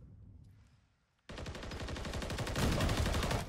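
Rapid automatic gunfire from a video game shooter erupts after a quiet moment, loud sustained bursts of closely spaced shots that keep going and grow denser toward the end.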